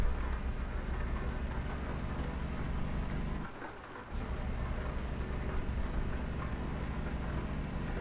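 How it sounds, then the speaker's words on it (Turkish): Steady rain drums on a truck in Euro Truck Simulator 2 while driving through Germany, a constant broadband wash over low engine and road rumble, briefly dipping quieter for a moment before resuming. "Amma da yağmur yağıyor ya bu Almanlara."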